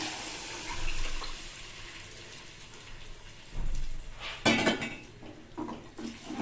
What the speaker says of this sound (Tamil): இப்போ இந்த புளி கரைசலை இதில் சேர்த்துடுறேன்.